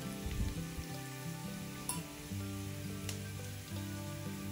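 Spices fry in oil in a pan for a mushroom curry, a faint continuous sizzle with a couple of small clicks, no voices.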